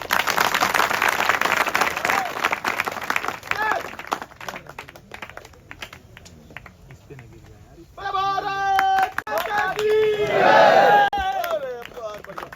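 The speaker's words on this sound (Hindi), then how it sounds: "चल जोरदार गड़गड़ाहट तालियां।" At a long jump event, spectators burst into applause and cheering that starts broad and noisy, thins out midway, then returns with shouting voices and whoops layered over clapping toward the end.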